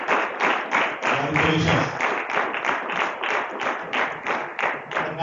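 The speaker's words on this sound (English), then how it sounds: "the claps are very loud, applause are very loud" An audience at an agricultural competition event bursts into loud, sustained clapping and applause, the crowd's hands rising and falling in uneven waves for several seconds, with one brief spoken word early on.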